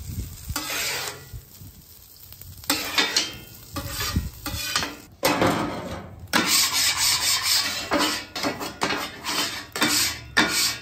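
Metal spatulas scrape, clatter and rub across a Traeger griddle as pastrami is mixed in over medium heat, busy irregular strokes with sharp clanks, close and loud, no talk.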